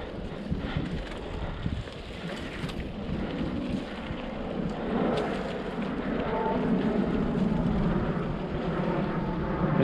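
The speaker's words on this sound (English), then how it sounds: "Plane." A plane drones steadily overhead near a lake along a long-closed road, its sound swelling over the last few seconds against wind noise outdoors.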